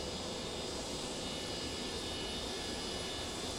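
A steady, unbroken roar of Boeing 727-100 jet engines in a flight simulator game, a dense broadband drone with faint high whine that stays constant and loud throughout.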